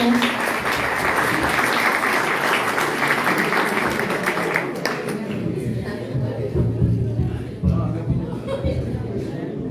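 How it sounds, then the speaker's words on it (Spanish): Audience applause at a panel session of talks, a loud dense clapping that fills the first half and then thins into scattered claps and murmuring as the crowd settles. "Renovamos el aplauso por su tiempo."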